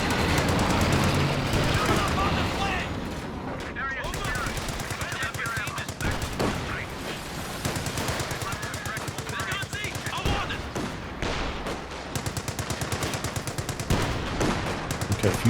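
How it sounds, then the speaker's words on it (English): Machine gun fire in the Company of Heroes 2 strategy game, with rapid dense bursts of automatic gunfire and explosive battle noise filling the clip, loud and continuous. "Trying to find an angle with that machine gun, but Happycat keeping the pressure on."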